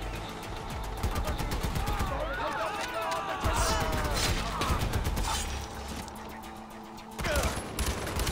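Rapid bursts of automatic gunfire with clattering mechanical noise and distant shouting in the video game Far Cry 4, loud and continuous throughout.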